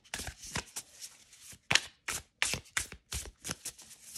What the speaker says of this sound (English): Okay, so let's give them a shuffle.